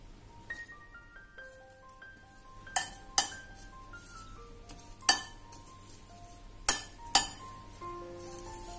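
Rice dough for gandos being mixed with bread crumbs in a bowl, with five or six sharp, close clinks spaced irregularly over a steady soft tonal background.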